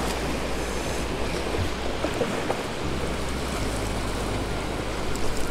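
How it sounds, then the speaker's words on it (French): Sea waves wash against the shore on a slightly rough sea, a steady broadband surge and hiss with some wind buffeting the microphone and no voices. "il y a quand même des vagues donc la mer est un peu agitée"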